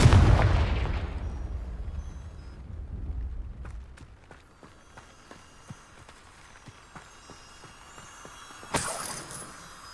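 A Confringo fire-blast spell goes off in Hogwarts Legacy as a loud boom at the start, its low rumble fading over a few seconds, then scattered sharp cracks and a bright burst near the end.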